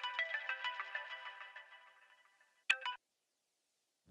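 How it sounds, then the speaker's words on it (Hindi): A mobile phone ringtone for an incoming call plays a bright, fast repeating melodic pattern that fades over about two and a half seconds, followed by a short sharp burst and then silence. "डीएसपी सर का फोन।"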